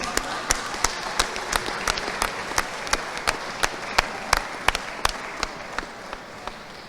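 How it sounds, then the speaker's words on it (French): A single person claps alone at a steady, even rhythm, about three claps per second, each one sharp and distinct. The sound comes from a Guadeloupe convention stage, with faint room ambience behind it and no talk. "Permettez maintenant que je puisse applaudir."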